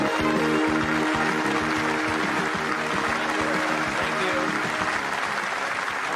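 A seminar audience breaks into sustained, loud applause to welcome speaker Jim Rohn, a dense wash of clapping that holds steady throughout, with a voice faintly audible underneath.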